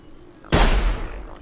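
A single loud shotgun blast in the video game Sir, You Are Being Hunted booms close by, its heavy report trailing off with a rumbling decay after a quiet moment.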